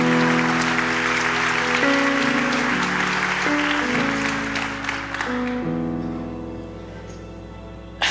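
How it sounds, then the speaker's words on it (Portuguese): A church congregation applauds over sustained keyboard chords, a broad wash of clapping that holds steady and then fades away while the music continues. "aplaude direito."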